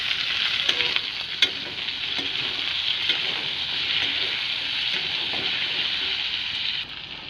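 Fish heads and tomato fry in hot spiced oil, giving a steady, close sizzle and crackle with a few soft clinks of stirring.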